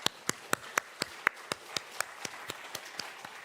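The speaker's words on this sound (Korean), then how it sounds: "우리와 함께 하신 하나님께 감사하며 하나님께 감사와 영광의 박수를" Slow, evenly spaced claps from a church congregation at a Sunday afternoon praise service, about fourteen crisp hand claps in a steady rhythm, no talking.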